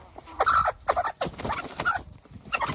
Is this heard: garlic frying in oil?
no